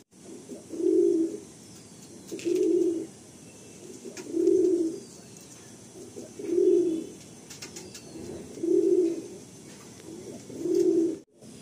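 Madrasi and Malwai pigeons coo in a steady rhythm, six evenly spaced, rounded calls about two seconds apart, close and clear over a quiet background hiss.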